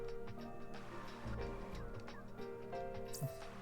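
Chickens clucking and squawking in the video game Front Mission 4, several fowl calls close together over steady game music and ambience, with one sharper squawk near the end.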